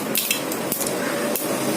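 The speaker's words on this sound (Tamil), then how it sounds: "எண்ணெய் காஞ்சிருச்சு கொஞ்சம் கடுகு போடுறேன்" Mustard seeds crackle and pop in hot oil with a steady sizzle, punctuated by a few sharp bursts.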